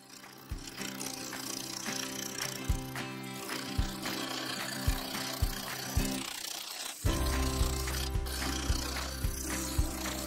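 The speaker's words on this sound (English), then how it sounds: "Most of this was done with the Easy Wood Tools full size finisher and the skew chisel." A woodturning lathe shapes a resin and wood egg with a skew chisel, a steady mechanical hum under regular soft knocks and ticks from the spinning piece, with a brief shift in tone partway through and no talk.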